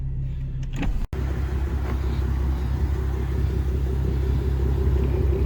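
A Nissan G35 coupe with a swapped-in VQ35HR engine runs steadily on a dyno, a loud continuous rumble with a brief dropout near the start.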